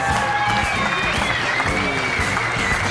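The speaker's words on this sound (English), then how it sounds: "And a round of applause too" At a professional boxing event, the crowd applauds and cheers after the official result is announced, a dense, steady wash of clapping and crowd noise that fills the arena, with a voice faintly audible.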